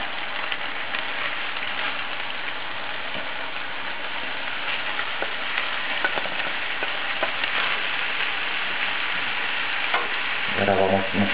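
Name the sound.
shrimp and fish being stirred while frying in a pan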